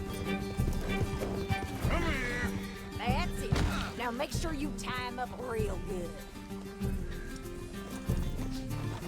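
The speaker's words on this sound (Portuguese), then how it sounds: "Calmou, o cavalo tá morrendo, moça." Horse hooves clip-clopping and a horse neighing in Red Dead Redemption II, the whinnies and stomps rising and falling through the scene while someone speaks over them.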